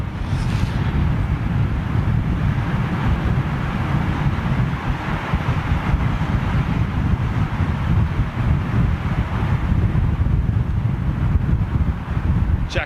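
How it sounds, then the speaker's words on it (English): Gusty wind roars steadily into the microphone outdoors near London Heathrow, a loud, unbroken low rumble that swells and eases slightly over time with no clear voices. "the wind has definitely picked up. Certainly gusting"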